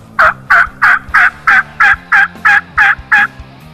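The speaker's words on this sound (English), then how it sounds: "Finally got a bird to gobble" A wild turkey in a valley gobbles about ten times in quick, even succession, each call loud, close and clear over a quiet low background hum, with no talking.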